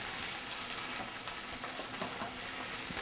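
Asparagus with wine sizzling in a hot pan, a steady, close, bright crackling hiss throughout with small spatters.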